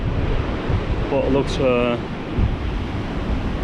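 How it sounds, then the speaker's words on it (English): A strong west-southwesterly wind, gusting about 30 mph, buffets the microphone on the River Mersey shore with surf roaring steadily underneath, while someone speaks briefly over the noise. "It's blowing a hoolie, about 30 mile an hour gust, west southwesterly wind."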